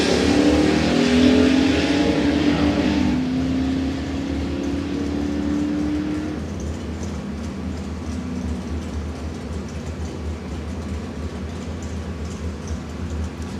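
Drag racing cars accelerate hard down a Florida dragstrip, a loud rising engine roar that peaks early and then fades into a lingering rumble as the cars move away.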